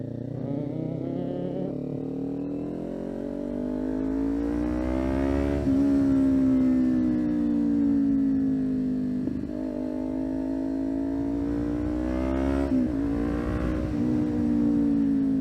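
A Kawasaki Ninja 400 motorcycle is ridden along a tight, twisty road, its engine note loud and close. It rises and falls steadily through the revs, with gear changes and short drops around the middle and near the end.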